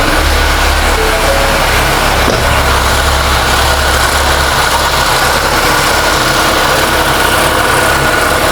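A 2020 Ford Escape engine turns over in a long crank, then settles into a steady idle, a continuous low rumble and broadband mechanical drone running close and fairly loud throughout.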